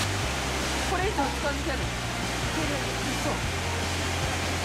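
The 88 m Daiko waterfall on Yakushima sends up a continuous, dense roar of falling water. A person speaks briefly over the steady rush.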